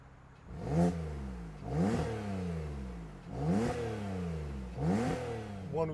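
Porsche 911 Carrera 3.0 turbo (991.2, 2018, PDK) revving with the sports exhaust open, four sharp throttle blips about a second apart, each rising then falling back, loud and close with no talk.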